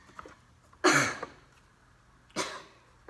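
Two sharp, close coughs about a second and a half apart from a person irritated by dust off a ceiling fan, each a harsh burst fading quickly, in a quiet room.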